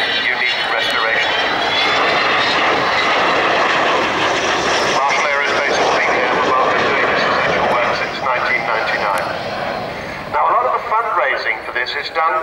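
Avro Vulcan bomber jet engines at the RIAT airshow, a loud sustained roar with a rising whine, heard under an announcer's voice.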